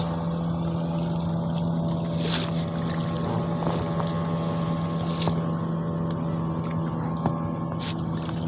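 Close motorboat engine drone on the Titas river, a steady loud hum with wind noise as a speedboat passes the boat, no talking.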